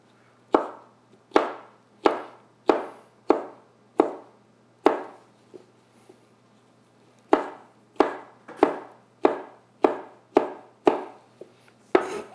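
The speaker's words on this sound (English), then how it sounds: "Okay, so we just slice these up." Knife chopping through fresh jalapeno peppers on a board, a steady series of crisp close thuds in two bursts separated by a quiet pause.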